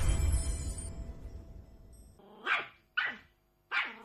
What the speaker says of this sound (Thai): โอ้ลูกหมาของเธอน่ารักน่ารักทั้งนั้นเลยอ่ะ